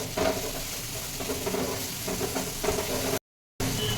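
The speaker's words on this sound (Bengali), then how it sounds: "এবার মশলাটা ভালো করে কষিয়ে নেবো" Spice paste of turmeric, salt and Kashmiri chili powder is stirred and fried in a pan for a fennel-spiced pointed gourd curry, giving a steady sizzle with scraping stirs throughout, briefly cut by a short gap near the end.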